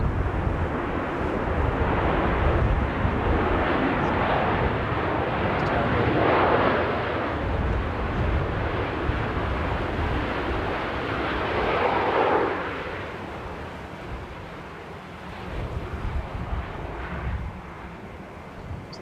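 A large airliner touching down at Manchester Airport in gusty wind, its broad engine roar loud and steady before easing off as it slows, with people talking over it.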